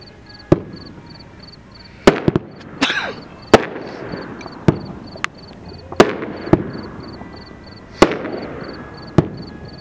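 A 15-shot red, white and blue fireworks cake fires a series of sharp, loud booms at irregular intervals, each followed by crackling decay, with no voices.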